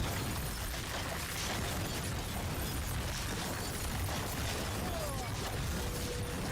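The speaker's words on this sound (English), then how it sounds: "I stood in this poison explosion and that was kind of bad" Poison explosion in Diablo 4: a dense, sustained roar of game effects and noise, steady and fairly loud throughout with no distinct single blast.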